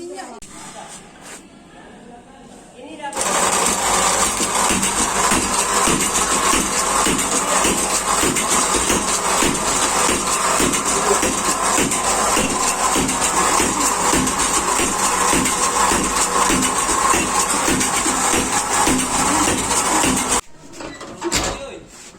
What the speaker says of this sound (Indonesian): Lalu nyalakan mesin penumbuk.